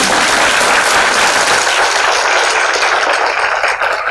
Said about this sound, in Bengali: তাদের জন্য আরো জোরে দিন হাততালি